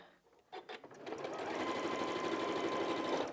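A sewing machine stitches slowly through a bulky seam on a Barn Dance quilt. A few hesitant starts give way to a steady, close whirring run.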